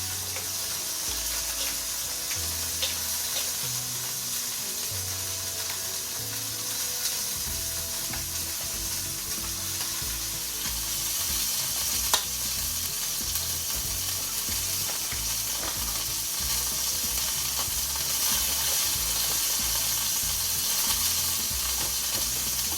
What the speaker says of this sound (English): So you're going to mix in your sauerkraut with those veggies.